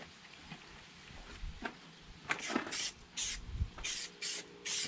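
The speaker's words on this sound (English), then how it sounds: "Start with the primer. And you're gonna wanna give it a light dusting all over to start with." Primer hisses from a spray can as a light dusting coat goes onto a VW T5 grab handle, in several short bursts of varying length, close and fairly quiet.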